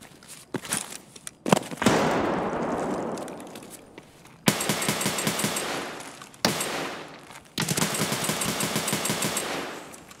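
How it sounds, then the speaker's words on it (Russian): In a video game, a grenade explodes in a sharp bang with a rushing decay, followed by long, loud bursts of rapid automatic gunfire broken by brief pauses. "Граната."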